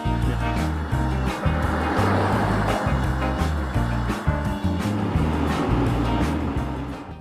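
Volkswagen ID.Buzz GTX, a twin-motor 340-horsepower electric van, pulls hard under acceleration with a steady loud drone and road rumble from inside the cabin, its low hum pulsing faintly throughout.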